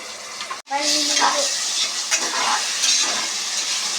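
Onion and tomato fry in a pan for chicken biryani, a loud continuous sizzle that cuts out for a moment, then resumes with stirring scrapes and a brief metallic clink.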